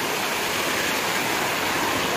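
Heavy rain pouring down outside a balcony, a dense, steady hiss with no breaks and no voices.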